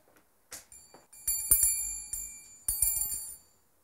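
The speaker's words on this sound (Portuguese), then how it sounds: "Toca o sininho aí." A small bell rings with bright, tinkling, sustained tones: a few light taps first, then several firmer clusters of ringing that fade away, close and clear with no talking.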